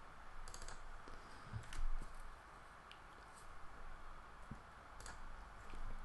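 Scattered, quiet clicks and taps from a computer keyboard and mouse sound close by, irregular and soft over low room noise, with no talk.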